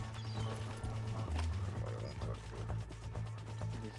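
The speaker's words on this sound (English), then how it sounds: "I'm gonna go put this horse up." Horse hooves clip-clop at a steady walking pace in a video game, with faint voices talking underneath.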